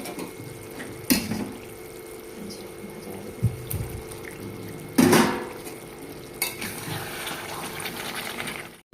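Water poured into a pan of mutton kosha with potatoes, a low steady wash with a few sharp utensil knocks and clanks against the pan scattered through it, and no talking.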